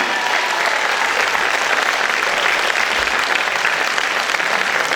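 Thunderous applause from a theater audience at a variety show at the Casino de Dieppe, greeting a singer, with dense, loud clapping that holds steady throughout.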